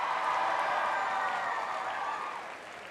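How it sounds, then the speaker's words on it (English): A crowd at a wish-granting school assembly applauds in a dense, even wash of clapping that gradually fades toward the end, with no clear speech. "Give yourselves another round of applause."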